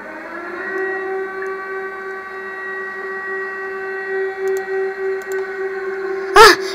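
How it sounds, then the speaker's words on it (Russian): A steady, droning siren holds a long tone with rising and falling pulses, then ends in a short sharp burst. "Сирена!"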